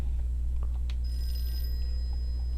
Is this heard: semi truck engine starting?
no